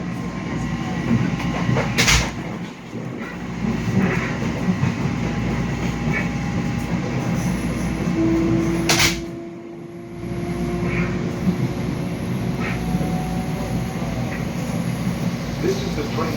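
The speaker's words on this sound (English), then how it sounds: "This is the train" Steady rumble of a commuter train into New York City, heard from inside, with a couple of sharp clanks and a dip in the noise partway through.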